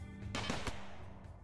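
Gunfire in the colony-survival video game RimWorld, a few sharp shots in quick succession near the start, then fading into a ringing tail.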